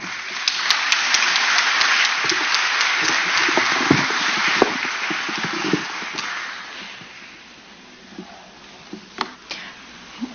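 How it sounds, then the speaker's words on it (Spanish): At a democracy day event, an audience welcomes a speaker with broad, hissy applause that starts full and loud, then gradually thins to a few sparse, scattered claps. "Vamos a recibirla con fuertes aplausos."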